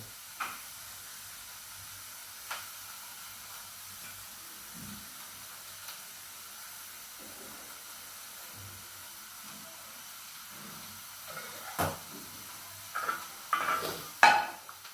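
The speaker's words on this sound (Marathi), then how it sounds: "आता आपण यात बारीक चिरलेले टोमॅटो टाकून घेऊ" Finely chopped tomatoes dropped into a hot pan for cabbage bhaji give a low steady sizzle, with sparse utensil scrapes and clinks that grow busier and louder near the end as the mix is stirred.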